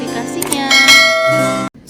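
A bright notification bell sound effect rings out at the start of an Islamic lecture: a loud, ringing metallic chime with layered tones that stops suddenly.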